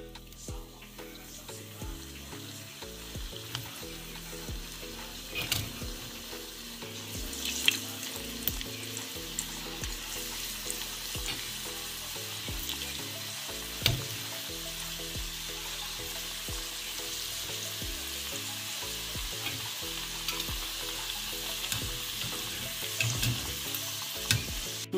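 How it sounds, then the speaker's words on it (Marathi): Modak dumplings deep-fry for a traditional Ganesh Chaturthi sweet in oil heated over a medium flame, a constant bubbling hiss with occasional louder pops, set against soft background music. "आपण हे मोदक तळून घेऊया."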